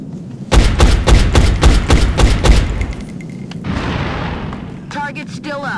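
Gunfire in the video game XCOM: Enemy Unknown, a rapid burst of loud shots followed by rumbling booms, with a voice talking over the firing.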